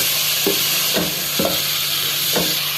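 Tomatoes fry with ginger and whole spices for a mutton stew, a constant loud sizzle with four evenly spaced scrapes as the mixture is stirred in the pot.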